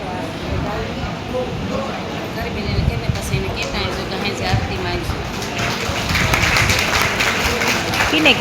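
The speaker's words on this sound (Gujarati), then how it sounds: "ફરી એક વખત જોરદાર તાળીઓથી વધાવી દઈએ" A women's group at a Bhagavat Katha gathering in a Gujarati village claps steadily, a dense wash of applause under a loudspeaker voice that builds toward the end.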